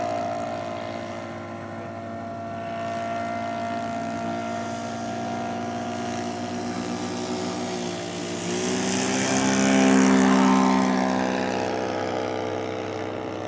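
A model Piper Pawnee airplane powered by a Sato 82 engine taxis at a scale flying event, its small engine droning steadily and swelling louder as it passes close, then easing off, with no talking.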